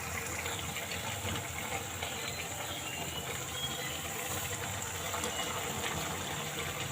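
Water coming to a boil in a pot for upma, a steady dense bubbling and hissing rush that holds even throughout, close and fairly quiet, with no talk over it.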